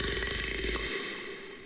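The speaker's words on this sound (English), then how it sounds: "It has a burp" A long, low, rumbling burp sounds within a music track, steady and loud, its deep rasp cutting off after about a second while a sustained tone lingers.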